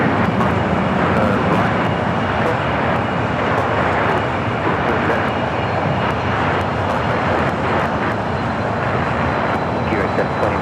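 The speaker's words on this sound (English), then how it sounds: "This will be a south side takeoff coming up." A jet airliner takes off at LAX with a loud, continuous engine roar that holds steady throughout, and voices talk over it.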